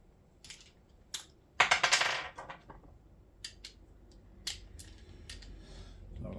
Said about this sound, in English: torque wrench set to 10 Newton meters